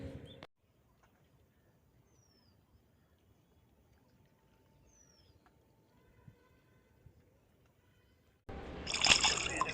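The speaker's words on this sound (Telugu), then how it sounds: "మనం ఈ విధంగా స్టోన్ని తీసుకొని దాన్ని వాటర్లో క్లీన్ అండ్ చేసేసి చూస్తే చక్కగా కనబడుతుంది" A stone is rinsed in water during a diamond hunt at Paritala. A long, nearly silent stretch with faint background ends in a sudden, loud, close splashing swish of water lasting about a second.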